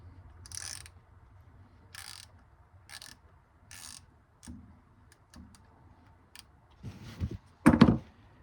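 A ratchet clicks in short bursts while loosening a rusty bolt on a 1993 Cadillac Fleetwood Brougham, several quick ratcheting strokes spaced apart, close and fairly quiet, ending with a couple of louder metallic clunks.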